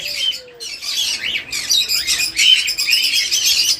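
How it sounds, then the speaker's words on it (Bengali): Pet birds at a bird market, including parakeets, cockatiels, lovebirds and conures, chirp and tweet in dense overlapping bursts, loud and close, with a short whistle early on and no voices. "এত সুন্দর পাখি কোয়ালিটিফুল পাখি লোকাল ব্রিডের পাখি"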